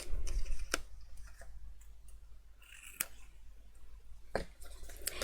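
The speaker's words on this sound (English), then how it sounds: "Oops, I'll throw the scissors." Scissors tossed aside while assembling a paper craft box for a mini album, a few sharp metallic clicks and clatters spread irregularly over a quiet room background.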